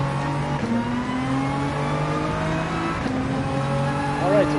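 A race car in the Gran Turismo 7 video game powers out of a corner, its engine droning and rising steadily in pitch through the gears, loud and continuous, with brief tire noise near the end.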